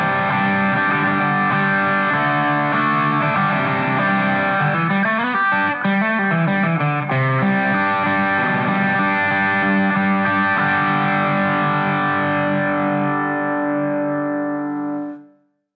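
An electric guitar recording reamped through a Peavey AmpKit LiNK rings out with heavy effects and distortion, chords sustaining loudly for about fifteen seconds before fading out, with no talking.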